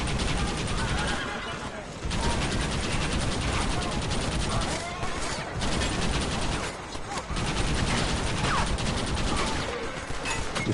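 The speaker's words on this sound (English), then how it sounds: "You simply just can't ride out in front of someone who has a machine gun like this." A machine gun rattles almost continuously in Red Dead Redemption, with dense rapid fire and only brief pauses.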